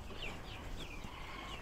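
Chickens clucking softly in a backyard coop alongside ducks, a few short chirpy calls over a steady low background bustle, moderately close and fairly quiet.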